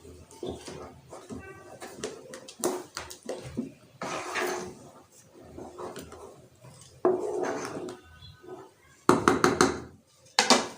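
Spoon clattering and scraping inside a pot while stirring Egyptian yellow lentil soup with vermicelli, cumin, black pepper and turmeric; irregular knocks and metallic scrapes, close and fairly loud, without talk.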